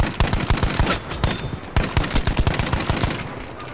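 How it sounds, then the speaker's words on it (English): Rapid bursts of Battlefield V gunfire, sharp repeated shots in quick rhythmic volleys with a few heavier headshot impacts mixed in. "the sounds for like headshots are fantastic."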